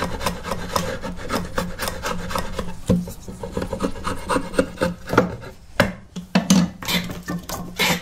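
Repeated rasping strokes of a drawknife shaving wood while roughing out an axe handle, a steady series of close scraping pulls with short pauses between them.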